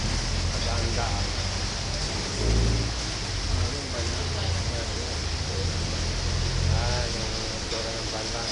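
Rain falls steadily outside a small roadside eatery, a constant soft hiss that stays under someone talking throughout.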